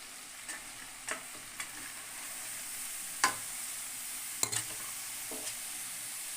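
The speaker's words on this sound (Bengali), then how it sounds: "এবার আমি এখানে বাঁধাকপিটা দিয়ে দেবো" Cabbage goes into a pan of frying spice paste and sizzles steadily, with a few sharp stirring clicks and spatula knocks over the constant hiss, no one speaking.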